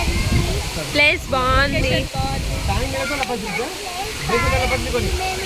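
Talakona waterfall rushes in a steady, close roar that runs under the whole stretch, while several people chat loudly over it.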